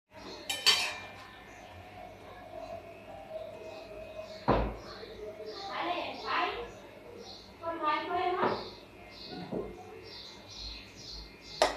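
Serving utensils clink and scrape against a plate while rice is dished out at home, a string of light metallic taps and clatters, close and moderately quiet, with a voice speaking in between.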